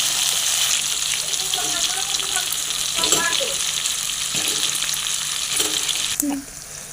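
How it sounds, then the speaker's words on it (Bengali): Fried potatoes go into a sizzling katla fish curry masala in a pan, a loud continuous frying hiss with occasional stirring clatter, easing off at the very end. "ভেজে রাখা আলুগুলো আমি দিয়ে দেব।"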